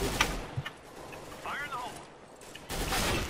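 Gunfire in CS:GO, quiet sharp shots scattered through the stretch and a burst near the end, heard under a player's excited talk.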